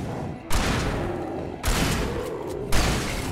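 Shotgun fire in the video game Alan Wake: three loud, heavy blasts a little over a second apart, each trailing a long rumbling decay, with no voices over them.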